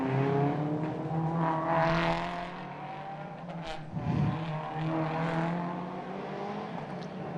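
Race cars in Macau Roadsport Challenge qualifying on the Macau street circuit sweep past the finish line one after another, engines loud and droning with rising and falling pitch, one car flashing close by midway.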